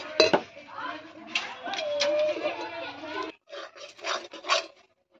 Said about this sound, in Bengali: এবার নামিয়ে নেব চাটনিটাকে।